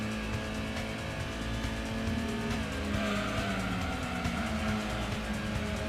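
A Mitsubishi Mirage race car in Gran Turismo on PS1 drones loudly through a corner at high speed, its steady engine note joined by tire squeal, with no voices over it.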